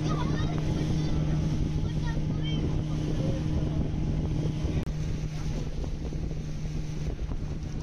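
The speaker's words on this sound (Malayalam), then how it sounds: "അപ്പോൾ ബോട്ട് യാത്ര തുടങ്ങിക്കഴിഞ്ഞു." A motorboat carrying passengers out to St Mary's Island off Udupi on a calm sea, its engine a steady low drone under wind buffeting on the microphone, with a few voices in the background.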